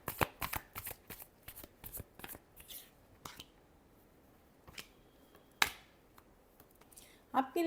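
Tarot cards shuffled by hand in quick riffling flicks and snaps, a dense burst of sharp card slaps at first that thins to scattered single flicks, close and crisp, with a voice speaking quietly between.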